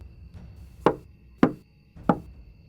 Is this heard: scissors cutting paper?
no